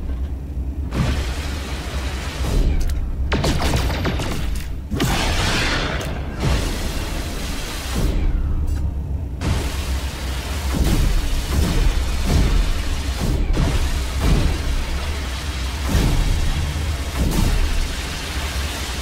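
Explosions in No Man's Sky burst repeatedly over a constant roaring rumble, the deep booms rolling and crackling like thunder, loud and close with no talk.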